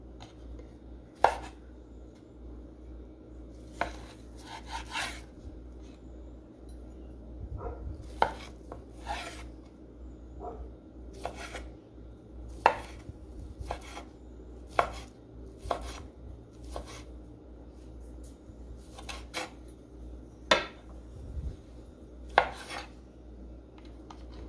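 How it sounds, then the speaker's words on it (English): A knife chopping smoked sausage links on a board, irregular sharp taps spaced a second or two apart over a faint background hum, close and fairly quiet, with no speech. "I'm just gonna get these smoked sausage links chopped up"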